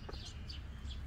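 A chicken gives a few soft clucks in a homestead yard, faint and brief against a low background rumble.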